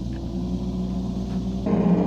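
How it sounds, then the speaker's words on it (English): The fuel pump of an abandoned 1990 Ford F600 truck runs with a steady, low electric hum and drone that steps up slightly in pitch and strength near the end, heard close and alone. "Oh, that's the fuel pump."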